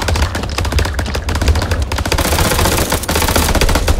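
Marines opening fire in the horror game House of Ashes: loud, continuous automatic gunfire with rapid overlapping shots and a heavy low thump running underneath for the whole stretch.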